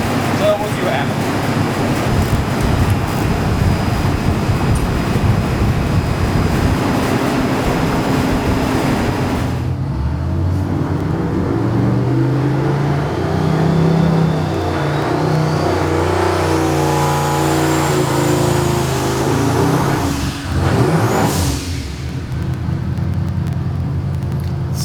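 A race car being pushed through a dyno run, its engine revving hard and steadily near and loud with a lean-running fault, the roar rising and surging, with people talking faintly underneath.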